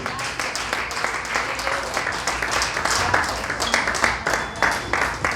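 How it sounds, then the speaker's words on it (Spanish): A church congregation claps in a strong round of applause, dense and fairly loud, with pulsing bursts and some voices mixed underneath. "Démele un fuerte aplauso a nuestro Señor Jesucristo"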